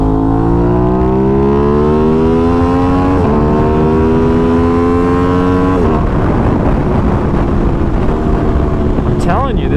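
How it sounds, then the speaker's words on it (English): A 2021 Aprilia RS660 sport motorcycle roars loudly under steady riding, its engine pitch climbing and then dropping sharply at two clean downshifts, with a rising blip near the end. "this downshift is very clean, and it's when it does, it sounds amazing."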